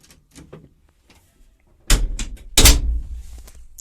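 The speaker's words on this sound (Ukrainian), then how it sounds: "От так замочок защолкується." Latch on the cab door of a Massey Ferguson 186 tractor snapping shut: two sharp, close knocks about half a second apart, each followed by a brief rattle, with quiet handling noises before them.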